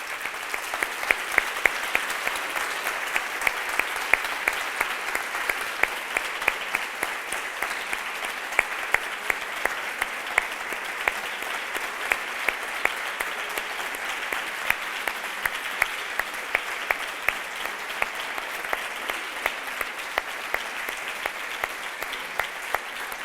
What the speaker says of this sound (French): Merci beaucoup, vos applaudissements me touchent